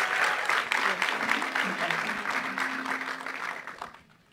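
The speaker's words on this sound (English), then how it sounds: "Let's get a round of applause" A crowd applauds at a music industry show, steady dense clapping filling the room with a voice talking over it before it fades out near the end.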